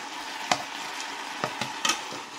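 A spoon stirs chicken soup with celery and vegetables in a pot over a steady, hissing simmer, with a few sharp clinks and scrapes at irregular moments.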